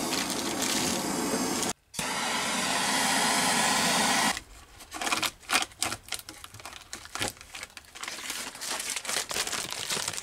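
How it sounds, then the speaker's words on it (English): Improvised, makeshift heat-sealing rig melting two pieces of cheap old billboard tarp together, a steady loud hissing, crackling roar for about four seconds, then a burst of uneven crinkling and rustling of the plastic sheet. "Let's see if I can heat seal two pieces back together with this really quick and dirty redneck heat sealing rig."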